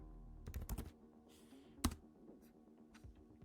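Search text typed on a computer keyboard: a quick cluster of soft, close key clicks, a pause, then one sharper keystroke and a few fainter taps, all quiet and with no talking.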